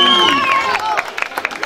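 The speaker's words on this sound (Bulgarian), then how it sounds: "Вашите аплодисменти, браво!" Audience at a kyuchek dance contest in Dolni Lukovit, Bulgaria, bursting into applause and cheers, a dense wash of clapping and crowd noise with a few whistle-like tones at the start.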